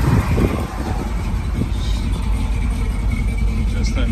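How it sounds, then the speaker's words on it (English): A pickup truck fitted with an Edelbrock carburetor runs at a steady idle, its low engine rumble continuous beneath a person talking. "Just a nice running truck."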